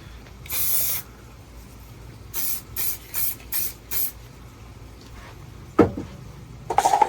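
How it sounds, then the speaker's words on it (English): Mold release is sprayed into a cup while making a wooden fishing lure prototype: one long hiss, then five short bursts in a row, close and loud, followed by a few clunks and rattles. "I'm gonna spray some mold release in there."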